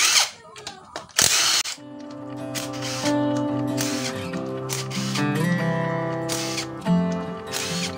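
An electric power tool whirs and ratchets while unscrewing bolts from the CVT cover of a Honda Beat scooter, with sharp clacks and a sustained motor whine rising and falling close by.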